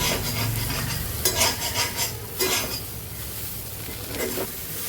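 Vegetables stirred in hot oil with chili powder in a pan, a steady sizzle broken by scraping, clattering strokes of a spatula, close and fairly quiet.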